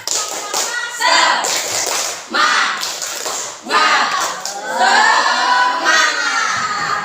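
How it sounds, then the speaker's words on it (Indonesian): Classroom group of teachers or students doing a rhythmic spirit clap in unison, bursts of patterned clapping with chanting voices, loud and close, pausing briefly between phrases. "Tepuk semangat"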